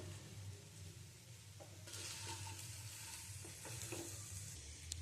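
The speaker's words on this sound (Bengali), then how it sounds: "ভালো করে নেড়ে ছেড়ে নিচ্ছি দিয়ে দিচ্ছি স্বাদ অনুসারে লবণ" Date and tamarind pickle stirred in a pan, giving a steady soft sizzle with intermittent scraping strokes of the spoon that grow busier midway, close and fairly quiet, with no one talking.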